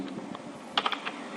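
Typing on a computer keyboard while writing in Microsoft Word 2007: a quick cluster of close, crisp key clicks after a short pause, fairly quiet with no talk.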